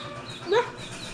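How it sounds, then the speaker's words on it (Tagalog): A single short chicken cluck rises briefly from a quiet background, close by and moderately loud. "Manok. Manok."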